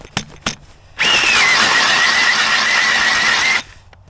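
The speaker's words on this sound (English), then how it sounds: "This auger is getting dull" A battery-powered ice auger with a dull blade bores through lake ice during perch fishing, a loud steady high whine lasting about two and a half seconds before stopping abruptly, with a few knocks before it starts.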